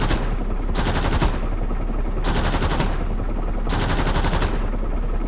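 Mounted gun on an armoured reconnaissance vehicle firing in DCS World Combined Arms, three long bursts of rapid automatic fire separated by short pauses.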